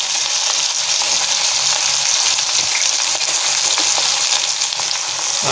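Bottle gourd pieces sizzle steadily in a hot pan with curry leaves, a loud, continuous bright hiss of frying oil with faint stirring clinks and no voices.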